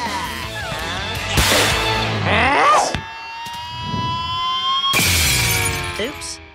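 In a cartoon, a football kick smashes a window: a bright crash of breaking glass bursts out, then a second shattering burst follows a sweeping siren-like tone, with animated voices talking throughout.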